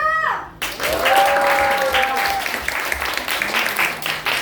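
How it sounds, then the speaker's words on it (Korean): Audience applauding before a student team's mime performance, loud sustained clapping with some voices mixed in, following a short tonal sound at the start. "박수!"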